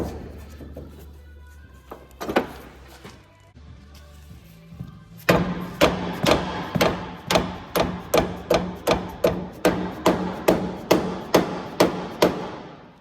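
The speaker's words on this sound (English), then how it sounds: "Probably gonna need a tap with the hammer." Repeated metallic hammer taps on a part of an Allis Chalmers All Crop 60 combine ring out steadily, about a dozen evenly spaced strikes after a few scattered knocks and clanks at the start.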